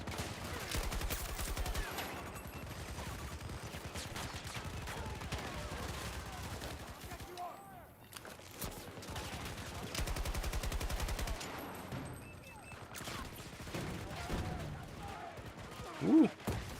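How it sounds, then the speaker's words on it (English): Light machine gun fire in a shooter video game, with rapid repeated shots in sustained bursts and a brief lull partway through, steady and moderately loud throughout. "It's dumb to use a light machine gun as a single fire weapon."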